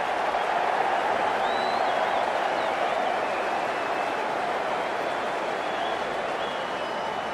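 Test match cricket crowd applauding and cheering steadily throughout, a broad continuous wash of clapping from a large stadium audience, loud and unbroken, with faint calls rising above it.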